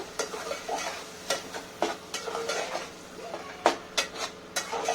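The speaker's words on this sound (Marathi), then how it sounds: "वाटण चांगलं परतून घ्यायचंय मसाल्यामध्ये तेल सुटेपर्यंत" Ground masala paste being sautéed in oil for mutton curry, a spoon repeatedly scraping and stirring through the pan with sharp metallic clinks over a steady soft sizzle, close and alone.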